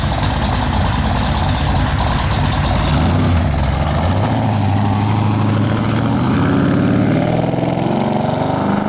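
A 1971 Plymouth Cuda's engine idles close and loud, then its pitch rises and settles partway through as the revs shift, with a steady low rumble underneath and no talking.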